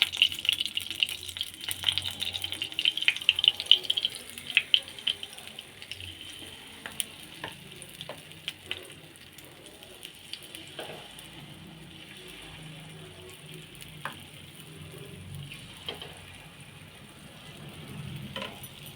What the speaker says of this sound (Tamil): பணியாரம் மாவு ஊற்றிட்டு